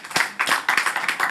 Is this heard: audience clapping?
yes